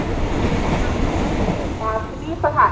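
A passenger train runs along Thailand's Death Railway, the Siam–Burma line, with a steady loud rumble and rattle from inside the carriage, while faint tonal squeals rise near the end.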